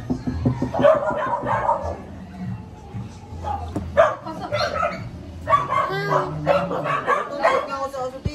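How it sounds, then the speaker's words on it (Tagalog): A dog barks and yips in short, excited bursts near a house door, close by and fairly loud. People talk and chuckle over and between the barks. "May aso naman dyan."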